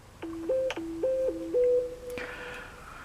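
Short electronic notification chime from a phone, a few stepped tonal beeps in a brief melodic pattern, fairly clear over a quiet room.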